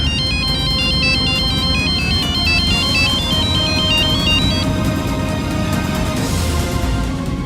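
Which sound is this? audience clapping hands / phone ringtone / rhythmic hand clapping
phone ringtone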